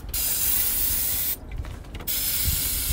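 Carb cleaner sprays in close, loud hissing bursts onto a Chevy S10 engine, with one short pause between two long blasts.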